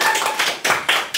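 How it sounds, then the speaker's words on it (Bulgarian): Hands clapping in a studio, three loud bursts of claps separated by brief gaps, with no one speaking. "Може да спрете да пляскате."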